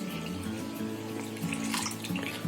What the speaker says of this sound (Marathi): आता 1 डबा पाणी ओतते.